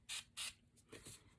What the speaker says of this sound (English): I'm going to spray my face with some of our mineral water